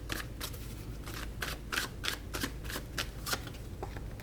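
A tarot card being drawn from the deck makes a soft, close series of rhythmic flicking and shuffling ticks, about a dozen light card snaps evenly spaced, quiet and with no talking.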